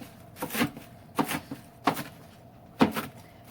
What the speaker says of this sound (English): Roughly chop your spinach.